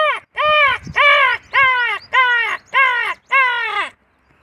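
A voice imitates a crow, giving six harsh, nasal caws in a steady rhythm, close and loud, with short gaps between them.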